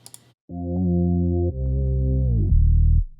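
A short bass fill pitched up an octave, run through distortion and flanger, in a bouncy R&B beat: sustained buzzy synth-bass notes changing pitch about every second, loud and alone after a brief opening blip.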